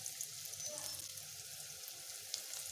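Onion and cumin frying in ghee for green moong dal khichdi give off a soft, steady sizzle with faint crackles, quiet and close, with no voices over it.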